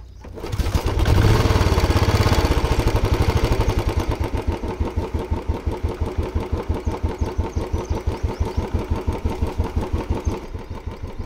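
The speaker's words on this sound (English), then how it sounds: "The first step to tune your carburetor is to turn on the engine." A motorcycle engine cranks and catches with a loud roar, then settles into a steady, rhythmic chugging idle nearby.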